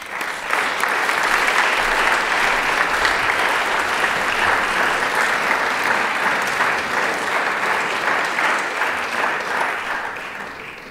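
Audience applause fills the hall at an awards gala in Paris, a sustained, even wash of many hands clapping that holds steady for several seconds and fades slightly at the end, without talk.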